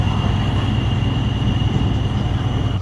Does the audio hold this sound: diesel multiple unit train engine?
yes